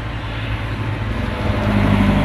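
A Mitsubishi 4D56 diesel engine idles in a restored owner-type jeep, giving a steady low rumble that holds even and close throughout, with no voices over it.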